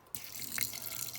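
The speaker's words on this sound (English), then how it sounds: "So we got some all-natural distilled white vinegar. That looks fine, so we'll pour some of that in there." Distilled white vinegar poured into a container, a soft steady trickling splash that starts abruptly and runs continuously, close and fairly quiet, with no talking.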